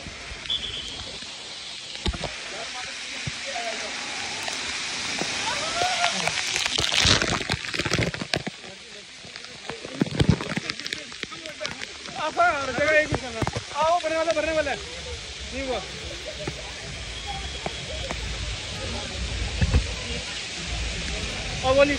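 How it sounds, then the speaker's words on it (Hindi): Water rushes and splashes continuously at a crowded outdoor water park with big waterslides, with people talking and shouting over the steady spray. "ये वाटर पार्क है, बारिश नहीं है वाटर पार्क है।"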